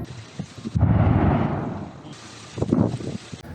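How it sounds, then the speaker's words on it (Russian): A deep, heavy explosives blast breaking river ice rumbles and roars for about a second and a half, then fades. A second, smaller burst follows, with spraying, splashing debris. "Для этого спасатели взрывают лед."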